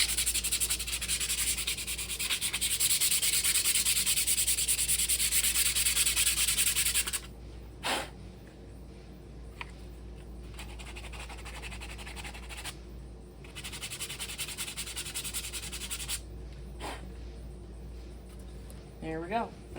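A part being sanded with coarse-grit sandpaper during board game assembly, giving loud steady rubbing for several seconds, then quieter intermittent scraping bursts with pauses.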